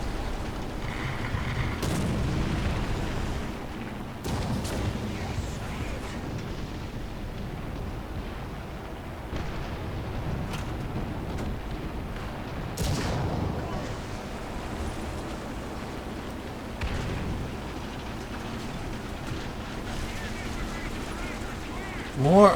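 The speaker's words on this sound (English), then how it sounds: "These guys are just artying me to death here." Artillery shells from the War Thunder tank game burst near the player's vehicle in repeated booming impacts, some close and heavy, others duller, over a steady rumbling backdrop with someone talking throughout.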